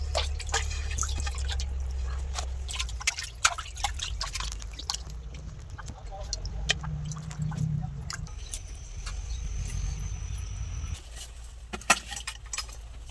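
Cabbage for a chicken-skin cabbage ghonto rinsed under a running kitchen tap, a steady close splashing and dripping stream with scattered sharp clicks and no talk.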